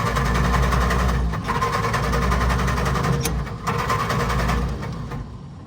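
The starter of a hot, carbureted car engine with fuel boiling out of the carb in hot weather cranks in a fast, steady mechanical churn that runs on without catching, with brief pauses between attempts.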